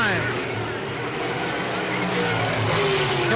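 Sprint race cars come off turn two at Selinsgrove in the 1980s, engines roaring loudly as they pass close, while an announcer talks over the noise.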